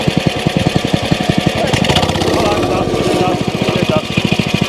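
A wacker plate compactor engine idles close by with fast, even chugging pulses, swells into a rougher, louder run in the middle, then drops back to its rhythmic idle.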